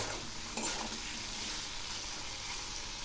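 Taro (kochu) and spices frying in a pan while being stirred, giving a steady broad hiss of sizzling with one brief utensil knock near the start, fairly quiet and without talk.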